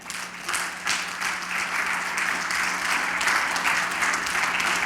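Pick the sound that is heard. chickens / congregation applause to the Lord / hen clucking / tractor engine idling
congregation applause to the Lord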